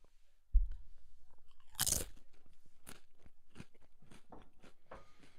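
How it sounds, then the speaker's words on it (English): Crunching on oven-baked low-fat tortilla chips, a single loud bite followed by a steady run of close, rhythmic chewing crunches with no talk over it. "Listen to this crunch."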